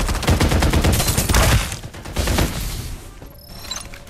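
Gunfire from Farlight 84 gameplay, a loud, rapid automatic burst that hammers on for about two seconds and then thins into scattered shots and mechanical clicks.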